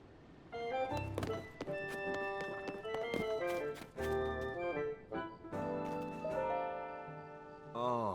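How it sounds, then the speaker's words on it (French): Horses trotting in Zelda: Tears of the Kingdom, light hoof clip-clops and thunks over layered game music and chimes, fairly quiet. "Les petits chevaux."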